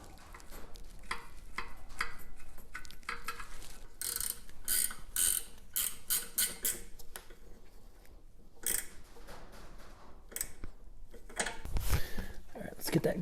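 Quick ratcheting clicks and scraping metal come from a post being threaded back into a Honda HRR216 lawn mower, in close bursts with occasional knocks and handling noise.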